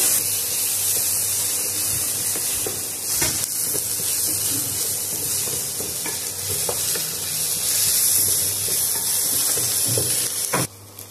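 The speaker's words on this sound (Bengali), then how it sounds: "লঙ্কাটাও দিয়ে দিলাম। একটু নাড়াচাড়া করে নেব।" Green chilli frying in oil in a pan while being stirred, a steady close sizzle and hiss with occasional scrapes of the spatula, no talking.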